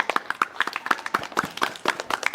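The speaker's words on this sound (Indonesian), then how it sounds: "Oke, tepuk tangan dulu buat kita semua." A small group claps hands together in a classroom or school physical-education setting, separate sharp claps in a quick, slightly uneven rhythm, close and moderately loud with no talking.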